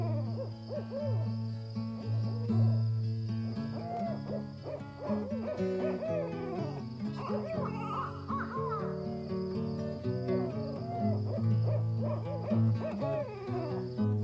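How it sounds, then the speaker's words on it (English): A barred owl hoots repeatedly at night, layered among dense, overlapping calls and musical tones that carry through the entire stretch. "No sound at night now, except when the wind blows or a barred owl comes out with its song."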